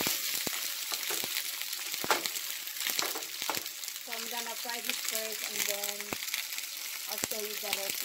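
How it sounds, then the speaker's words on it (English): Salmon sizzles and crackles in a hot pan, with sharp pops and spatters over a steady frying hiss, and a faint voice occasionally audible. "I'm done frying this salmon."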